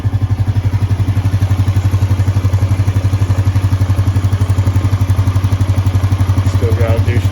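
A Honda boat engine runs steadily while warming up through its heat cycles, a loud, continuous, evenly pulsing low drone that holds without break from start to finish.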